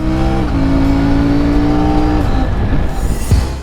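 A high-revving engine accelerates hard through quick-shifter gear changes. A loud, close tonal drone climbs, drops at a shift, then climbs again before the pitch breaks up near the end.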